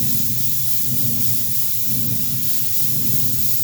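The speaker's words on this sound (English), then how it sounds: "I'm going to give them one more real quick spritz with the apple juice." Apple juice spritzed onto pork belly burnt ends on a Green Mountain Grill, heard as a steady, fairly loud hiss of spray and sizzle that holds evenly throughout with no talk.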